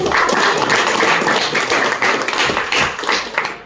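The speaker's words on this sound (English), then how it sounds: "Let's have a big round of applause for Aditya." An audience at a speakers forum applauds, dense continuous clapping from many hands, close and fairly loud for the whole stretch, tapering slightly at the end.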